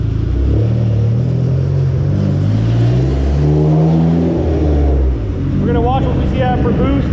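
Turbocharged Dodge SRT-4 engine on a dyno during a third gear pull with added boost, a loud low drone rising in pitch as the engine revs, with a voice talking over it near the end.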